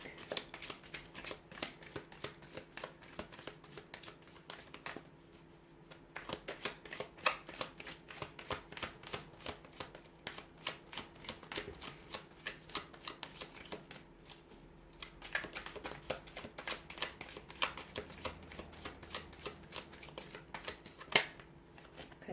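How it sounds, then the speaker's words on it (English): Tarot cards are shuffled by hand in a steady run of crisp, papery riffles and slaps, close and quiet, with no talking. "we'll go ahead and give the cards a shuffle"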